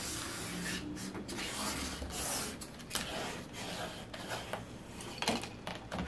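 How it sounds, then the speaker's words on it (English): A scraper tool is pressed and dragged firmly over Dollar Tree craft vinyl, giving close, dry rubbing and scraping strokes in an irregular rhythm, quiet and alone. "Use my scraper tool to press down firmly."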